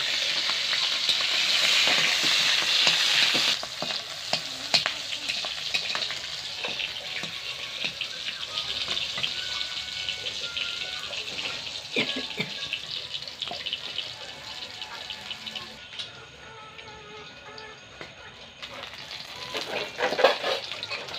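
Dried red chillies and green chillies sizzle in hot oil in a wok, a loud hiss at first that settles into steady frying with scraping stir strokes and some clatter, no voices.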